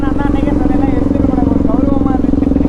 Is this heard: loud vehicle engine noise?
yes